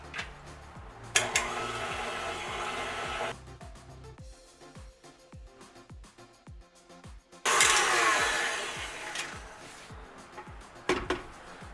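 Electric mixer blending orange juice into chocolate cookie batter, whirring steadily in two loud bursts with a quieter stretch between, with clinks of the bowl and beaters.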